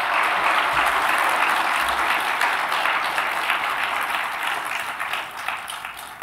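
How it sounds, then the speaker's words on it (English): Audience applause at a libertarian gathering addressed by David Boaz, a sustained dense wash of many hands clapping at steady loudness for about six seconds, tapering slightly near the end, with no voices. "Give yourself a round of applause."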